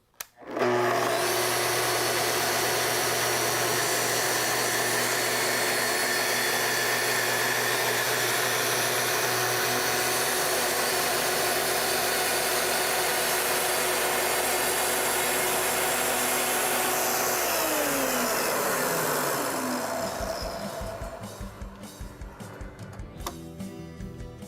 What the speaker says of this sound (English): To make your cut, plunge in slowly all the way down and advance forward until you reach the end.